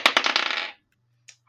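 Kraken dice rattle in a quick clattering burst of hard clicks as they tumble to a stop, then a lone faint tick follows after a brief silence.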